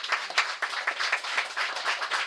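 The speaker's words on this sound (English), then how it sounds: "So let's applaud to our panelists." An audience applauds panelists at an accessibility conference, a steady wash of many hands clapping close and loud, uninterrupted with no voices.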